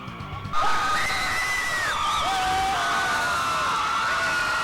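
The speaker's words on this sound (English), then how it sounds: "That is the Mandan cheering section." The Mandan cheering section at a 1998 state girls basketball semifinal bursts into loud, sustained cheering and high-pitched screams, a dense crowd roar filling the gym.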